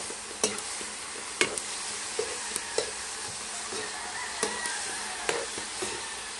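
A sautéed dish seasoned with oyster sauce being stir-fried: a steady, close sizzle runs throughout, punctuated by repeated light clinks and scrapes of a utensil against the pan.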